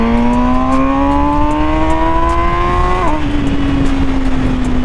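A 2020 MV Agusta Brutale 1000RR motorcycle engine held near 6,000 RPM, a steady buzzing drone that climbs slowly, then drops sharply partway through and settles lower, with constant wind rush and no speech.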